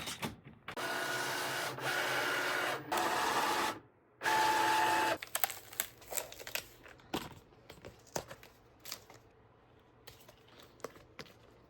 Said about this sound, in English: I'm going to laminate this one this time and then put it through the Cricut and see how it goes.